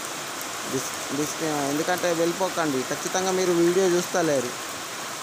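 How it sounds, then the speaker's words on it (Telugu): Heavy rain falling outdoors, a steady hiss of drops that runs beneath someone talking throughout. "చూడండి వర్షం బాగా పడుతుంది కదా"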